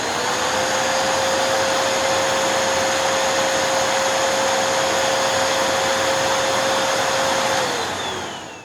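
A Hoover NanoLite vacuum cleaner runs at max power, a loud, steady high whine with a constant motor tone that winds down at the very end.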